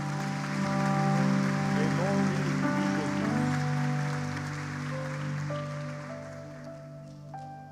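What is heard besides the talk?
church congregation applauding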